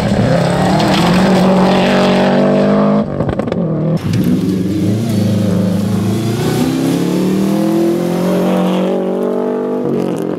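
Subaru rally car engine running after losing its turbo under hard driving, a loud, continuous engine drone with shifting pitch, a brief dip near the middle before it revs and climbs again.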